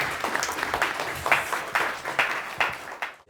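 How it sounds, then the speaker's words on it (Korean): Closing applause from a seminar audience, a few seconds of steady close clapping from a modest crowd that stops abruptly. "큰 박수로 마무리 짓겠습니다"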